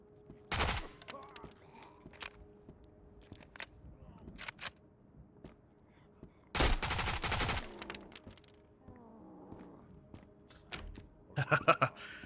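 AK rifle gunfire in the video game Road to Vostok sounds in a few sharp bursts: a short volley, a longer rattling burst mid-way, and a final quick cluster. Quieter clicks and movement fill the gaps between bursts.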